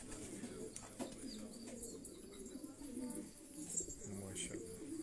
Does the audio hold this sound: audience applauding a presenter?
no